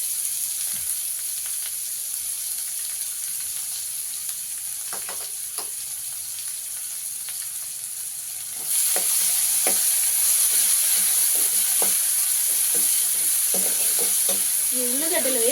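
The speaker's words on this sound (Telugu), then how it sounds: "ఇప్పుడు ఉల్లిగడ్డలు వేయబోతున్నా." Onions drop into hot oil for a curd vada dish. A steady sizzling hiss jumps sharply louder partway through as they hit the pan, with stirring clicks scattered on top.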